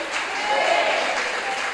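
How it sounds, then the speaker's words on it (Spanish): A church congregation claps enthusiastically in praise, a steady dense wash of applause with some voices mixed in, filling the space for under two seconds. "denle un fuerte aplauso al Señor por eso"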